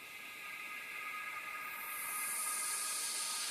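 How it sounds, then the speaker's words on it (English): A noisy swoosh sweep effect from an electronic track: a hissing wash that rises in brightness and swells louder over a few seconds, heard alone. "a swoosh sweep sound, a noisy sweep sound"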